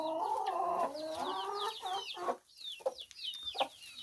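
Hens and young chicks feeding on pumpkin, with a cluster of close clucks and soft chirps at the start, then sparse pecking, scratching and intermittent higher chirps at moderate loudness.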